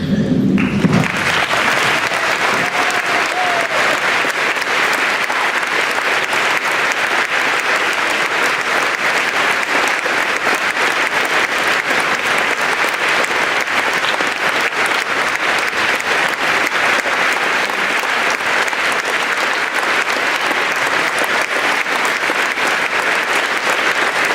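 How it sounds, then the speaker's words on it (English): Loud, sustained applause from a high school crowd honoring veterans at a Veterans Day assembly, a dense continuous roar of many hands clapping at full volume for over twenty seconds without letting up. "give one last loud Wolverine applause for yourselves and all these veterans here today"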